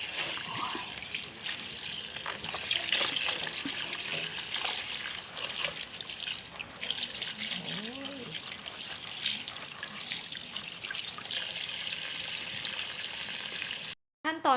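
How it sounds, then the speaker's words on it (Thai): Running cold water from a tap rinsing cooked cassia leaves in a kitchen sink, a continuous splashing trickle with brief handling clatter, cutting off abruptly near the end. "เราเอามาล้างซ้ำอีกหนึ่งรอบกับน้ำเย็นนะคะ"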